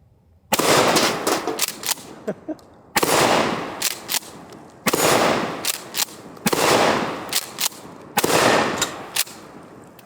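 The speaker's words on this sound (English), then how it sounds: "So I'm gonna try to shoot it right-handed." Five loud, close blasts from a Mossberg 590 Shockwave 12 gauge shotgun, hip fired right-handed at an outdoor target, come about two seconds apart, each followed by a long rolling echo.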